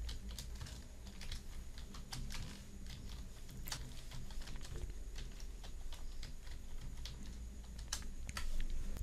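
Fingers typing text on a computer keyboard, with fast, irregular key clicks that continue steadily throughout and sound quiet and close.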